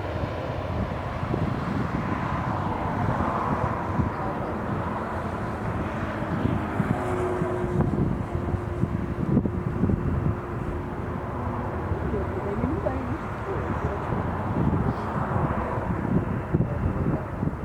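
Airliners land and take off at Lisbon Airport, heard as a steady, distant jet engine roar mixed with wind buffeting the microphone, with faint voices now and then.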